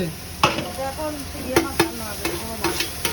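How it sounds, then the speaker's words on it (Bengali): Spice paste of ginger, garlic, onion, chilli and tomato stir-fried in a pan at a street food stall, with a steady sizzle and several sharp scraping stirs of the spatula, close and clear. "এখানে কিন্তু মশলা অলরেডি কষাচ্ছে"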